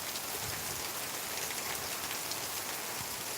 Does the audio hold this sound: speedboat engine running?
no